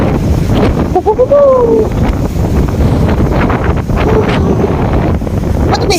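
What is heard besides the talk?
strong wind in Wellington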